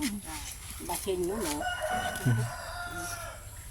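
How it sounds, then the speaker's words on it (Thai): A rooster crows nearby with rising, wavering calls, with clucking and a voice in the background. "โอ้ไก่ใหญ่มากเลย"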